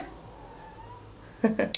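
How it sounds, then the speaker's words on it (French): A house cat gives a few short meows close by near the end, following a quiet stretch of room noise. "Le chat"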